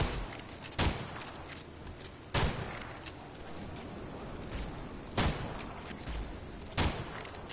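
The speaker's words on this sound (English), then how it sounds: "We're just all shooting them from a distance." Gunfire from several players shooting enemies at a distance in the Evil Dead game: sharp shots ring out at irregular intervals, about five distinct cracks, over a steady background rumble.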